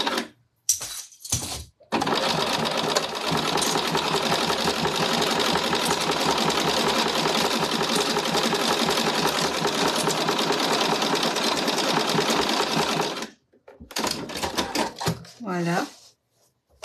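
A domestic sewing machine topstitches through velvet, its fast needle chatter running steadily for about ten seconds after a short start, with brief clicks and handling noises before and after.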